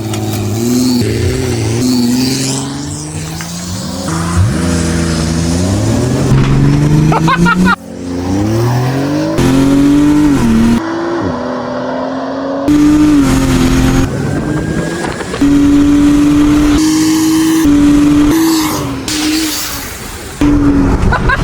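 Loud engine roar of a minivan drag racing a Porsche 911, revving hard through first gear with rising pitch sweeps and abrupt shifts, close and continuous, with voices briefly heard over it.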